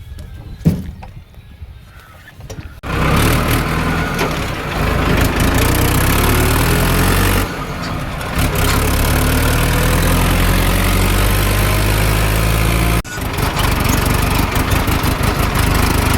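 A tractor engine running at full power, a loud, steady low drone that kicks in after a few quiet seconds and holds with brief dips, no voices.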